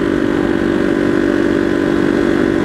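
A motorcycle engine runs steadily and close by on a street, giving a loud, even droning hum with no talk over it.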